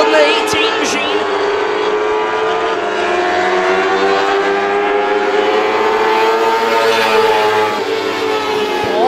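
Race cars at Star Speedway roar through a heat race, their engines droning loud and steady with pitch that rises and falls as they pass, and a commentator talks continuously over the noise.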